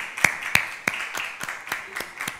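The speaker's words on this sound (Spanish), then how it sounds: "Vamos a dar un aplauso en este momento" A church congregation claps together in a steady run of sharp, close hand claps with a few louder individual claps standing out.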